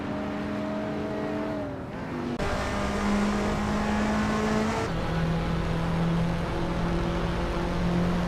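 A 2014 Nissan GT-R Nismo race car in a racing video game drives steadily with a loud, sustained engine drone, its pitch shifting through gear changes, with no voices.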